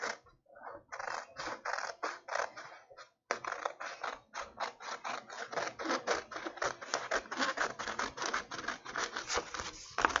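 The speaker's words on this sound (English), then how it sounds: "Let's get our scissors out. I'm going to cut it out. Okay, we're cutting." Scissors snip through paper in a steady run of short crisp cuts, close and fairly loud, pausing briefly as the sheet is turned before the rapid snipping resumes.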